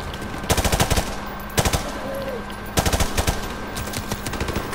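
Call of Duty Modern Warfare gunfire: short rapid bursts of automatic fire, each a quick string of sharp cracks, repeating several times over a steady background hum.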